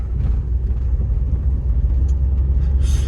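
A repaired car, its worn stabilizer bushings replaced, rolls slowly over a rough test road with a steady low rumble and no knocks or rattles, close and continuous throughout.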